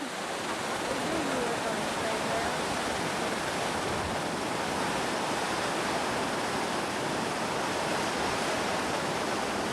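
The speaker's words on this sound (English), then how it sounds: "We came all that way just to see this little waterfall." A small waterfall in New Zealand's South Island roars in a dense, constant rushing hiss, loud and unbroken from start to finish.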